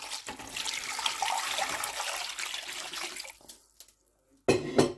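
Water pours steadily into a cooking pot for a few seconds, then tapers off, followed by a brief metallic clank of the pot.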